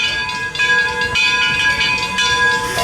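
A heritage train at Greenfield Village rumbles steadily with a hissing, metallic ring and faint bell-like tones, continuous and fairly loud throughout.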